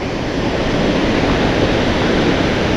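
A creek on the Pacific Crest Trail flows past with a loud, dense, steady rush of water, unbroken and close, with no voices.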